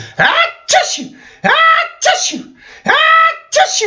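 A voice imitates sneezing, six loud exaggerated sneezes in quick succession, close to the listener.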